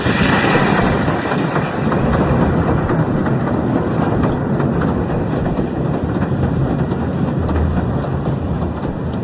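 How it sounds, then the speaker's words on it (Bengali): A train pulls into Southend station near the seaside, a loud steady rumble and rolling clatter of wheels on rails filling the whole stretch, with no voices. "এই যে ট্রেন চলে আসছে"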